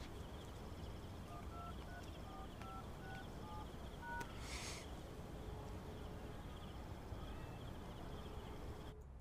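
Phone number dialed on a mobile phone, a quick run of about a dozen short electronic keypad tones in an uneven rhythm, faint and close, over low background hiss with no talking.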